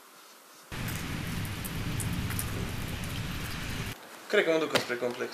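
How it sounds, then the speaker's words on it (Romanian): Steady rain pours outside as a dense hiss that starts abruptly, runs for about three seconds and cuts off, followed by a person speaking. "Nu vezi ce plouă afară?"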